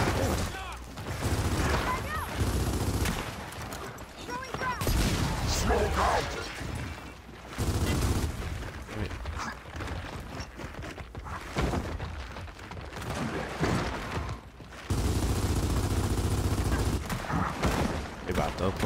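Gears of War 4 gunfire crackles in dense, rapid bursts, heavy fusillades and machine-gun rattles with crashing impacts that come and go, while players chat over the action.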